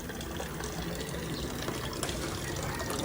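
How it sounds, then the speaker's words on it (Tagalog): Water runs steadily from a tap in a continuous, close rushing stream that stays even in loudness throughout. "so nagpaagas na kog tubig."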